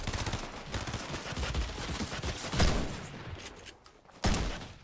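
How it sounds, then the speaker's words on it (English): Rapid bursts of gunfire from the video game Fortnite crackle continuously, dense and loud, with a sharper, heavier burst near the end. "I thought I heard somebody shooting"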